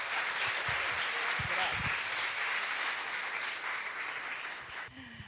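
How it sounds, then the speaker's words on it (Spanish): Audience applause at a church graduation ceremony for pastors, a dense steady wash of clapping that fills the room and thins near the end, with a voice briefly heard over it. "para quien pido un fuerte aplauso"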